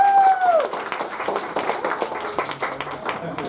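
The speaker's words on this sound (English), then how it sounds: "Give a big round of applause again for next time." Audience applause at a debate club meeting: a dense, steady patter of many hands clapping that rises after a brief tone at the start and continues evenly to the end.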